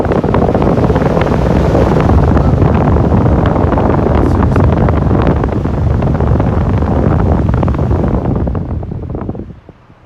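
An old, rusty, restored Patton industrial fan with a Macmillan motor roars loudly, a broadband rushing drone that stays strong and then fades out in the last seconds.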